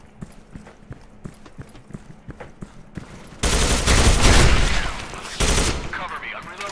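A FAMAS assault rifle fires in Soldier Front 2, loud rapid automatic bursts breaking out after a stretch of quick footsteps and pausing briefly before a second burst.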